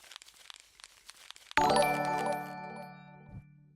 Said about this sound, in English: It's just a paper crumple.